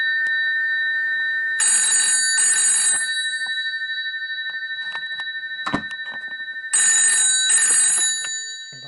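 An Ericsson PMG 271 telephone bell rings in two bursts of double rings, loud and metallic, separated by a quiet gap with a steady background hum.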